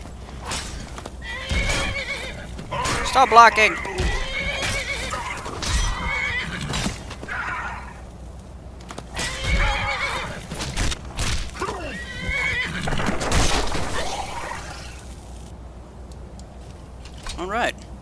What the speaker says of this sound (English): Oh, horse is here to help.